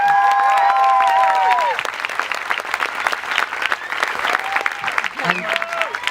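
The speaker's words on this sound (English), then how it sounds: "Let's give these guys a huge round of applause." A festival crowd claps loudly and steadily, with a few whoops and voices mixed in over music that fades out early on.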